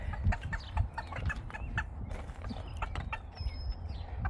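Hens in a backyard coop cluck and murmur up close, with scattered soft calls and scratching over a steady outdoor background at moderate loudness.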